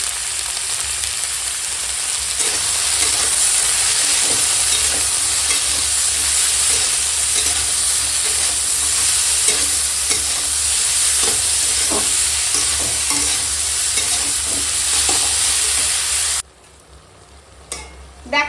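Spice masala with vegetables sautés in a pan, giving a loud, steady frying sizzle with repeated stirring scrapes, then the sound drops sharply near the end.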